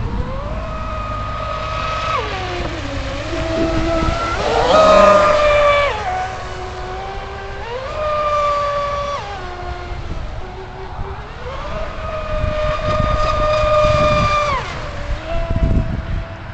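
An RC P1 Offshore mono speedboat with a 10S high-voltage setup runs at full throttle, a loud high-pitched electric whine rising and falling in repeated passes as it speeds across the water.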